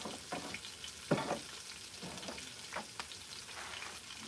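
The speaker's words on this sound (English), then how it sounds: "that rabbit is a sizzling" Rabbit meat frying in a hot pan, a steady crackling sizzle with scattered sharper pops and spits over about four seconds, close and fairly quiet, with no voices.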